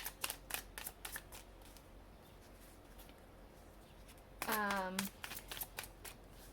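Tarot cards being shuffled to draw another card: a burst of rapid crisp riffling in front, then a brief higher tone, with more scattered light card snaps and soft clicks before and after.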